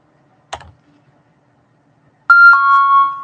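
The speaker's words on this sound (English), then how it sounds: "the alarm's going to really make me lose my mind" An alarm sounds with a sharp electronic tone that starts abruptly and holds steady and loud, after a brief earlier click in an otherwise quiet room.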